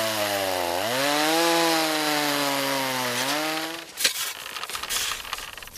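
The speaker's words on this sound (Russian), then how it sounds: "берется за бензопилу. Железная печка требует много дров." A chainsaw cuts firewood for an iron stove at a winter hunting cabin, its engine droning loud and close, revving up and holding under load before dropping off into rattling wood and debris noise.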